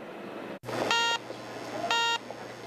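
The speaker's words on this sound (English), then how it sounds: "The beeping sound indicates this small sensor is reading gas particles" A small handheld natural gas sensor beeps while reading gas particles near a leak site, two sharp electronic tones about a second apart, each held briefly over low background noise.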